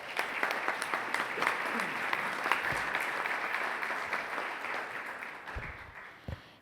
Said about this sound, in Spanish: también un aplauso para ella